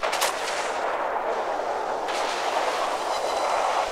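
Heavy naval gunfire and shell impacts in World of Warships, a Conqueror battleship trading fire with a Yamato, rolling as dense, continuous booming rumble with a sharp blast near the start and another around the middle.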